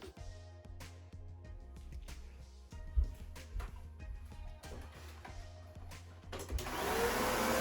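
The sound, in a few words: vacuum cleaner vacuuming a room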